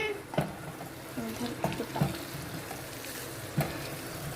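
Sambar masala tempering sizzles in hot oil in a pan. A soft, continuous frying hiss is broken by a few sharp clinks of a spoon against the vessel.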